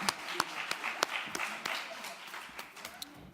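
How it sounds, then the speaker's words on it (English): An audience at an annual general meeting claps for a presenter, with scattered, distinct hand claps standing out sharply over a softer background of clapping, thinning out toward the end. "Another round of applause for Tricia."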